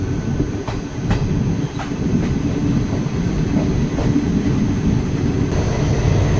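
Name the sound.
Malda-Howrah intercity express train running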